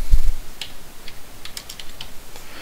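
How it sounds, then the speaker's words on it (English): Dates are typed on a computer keyboard, a few light, scattered key clicks at close range over a quiet background. "You can type them in by using slashes in between them."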